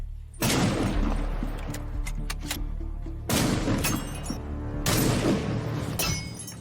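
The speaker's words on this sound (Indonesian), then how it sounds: "Zondi mengasah kemampuannya dengan menembak besi kecil yang telah disediakan" Sharp, close gunshots ring out in three bursts as bullets strike small iron targets in a film scene, each hit followed by a brief metallic clatter and decay.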